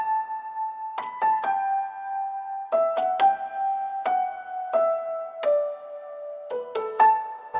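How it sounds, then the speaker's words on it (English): A soft, delicate upright piano from a Keyscape Duo Upright preset plays a slow, sparse layered melody, each gentle note ringing and decaying cleanly with no talking. "I'm using Keyscape and I'm on the Duo Upright in a Sense preset"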